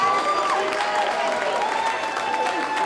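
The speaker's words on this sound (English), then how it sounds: "can we please have a big round of applause for both of our" Crowd applause and cheering for Muay Thai fighters at a fight event, a steady roar of clapping with voices and whistling tones mixed in throughout.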